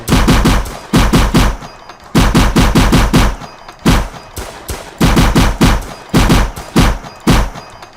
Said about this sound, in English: Getting shot by the alien a little bit while I'm doing this.